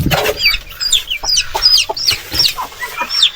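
Brooding hens cluck repeatedly near a chick coop, with a quick series of sharp, chattering calls in an uneven rhythm, loud and close with no talking.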